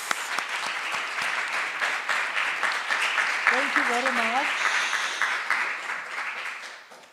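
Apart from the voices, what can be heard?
audience applause at a panel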